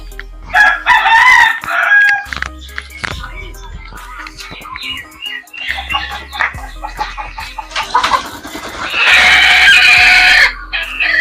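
Several chickens cluck close up on a chicken farm in Assam, with a rooster crowing loudly in bursts among the flock's chatter.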